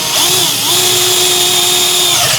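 A power drill fitted with a 5/16 bit bores into a kitchen cabinet, a loud, steady, high motor whine running continuously and close up, with no talk over it.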